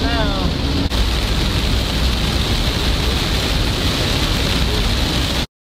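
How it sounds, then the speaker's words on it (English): Steady heavy rain hisses loudly and continuously during a thunderstorm, a dense wash of noise that holds without pause before cutting off abruptly, with a brief voice at the start. "Yeah, she's raining now."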